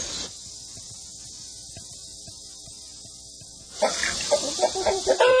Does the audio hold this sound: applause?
no